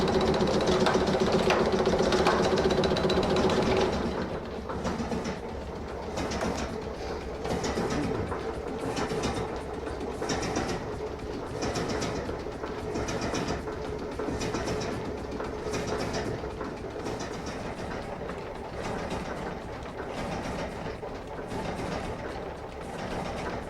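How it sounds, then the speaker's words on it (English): A steam-powered H.B. Smith single-end tenoning machine, patented in 1866, runs in a woodworking shop with a continuous, rhythmic mechanical clatter. It starts loudest, then settles into a steady chugging, clacking beat. "This is an H.B. Smith single-end tenoning machine."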